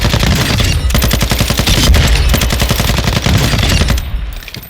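Sakin MG38 machine gun firing in Call of Duty DMZ, loud sustained automatic bursts of rapid, evenly spaced shots running for several seconds, with a brief pause between strings and a quieter tail at the end.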